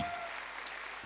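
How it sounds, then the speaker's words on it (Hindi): Audience applause at a business motivational event, a steady dense patter of clapping hands sustained throughout, loud and close with no voices over it. "तालियां होनी चाहिए, शाबाश।"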